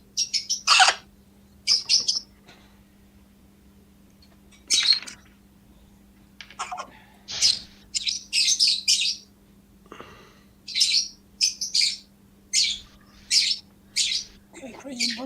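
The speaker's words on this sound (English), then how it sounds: "Okay, crazy birds." Birds chirp and tweet in repeated short bursts, some quick clustered calls and others spaced apart, heard fairly close over a steady low electrical hum in a home garage or workshop setting.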